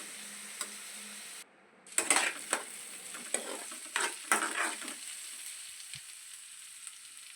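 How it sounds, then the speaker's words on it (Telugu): Sliced onions and curry leaves fry in a pan, a steady hiss broken by repeated scraping stirs of a spoon against the metal, close and clear with no talking. "ఆనియన్స్ ఫ్రై అవుతున్నాయి."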